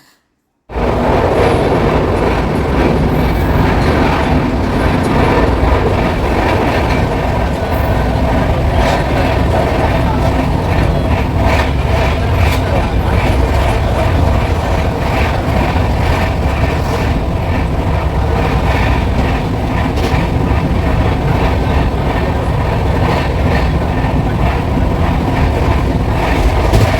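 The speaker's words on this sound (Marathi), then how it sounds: "तुम्हाला गाड्यांचा आवाज ऐकू येत असेल" Heard from inside a moving train, a loud continuous rumble of wheels on track with constant rattling carriage noise starts abruptly and holds steady throughout, with no talk.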